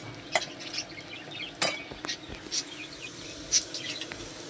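Ginger-garlic paste being stirred into onions frying in a pan for a home-style chicken and potato curry, with a few sharp spoon scrapes and clinks over a low, steady sizzle.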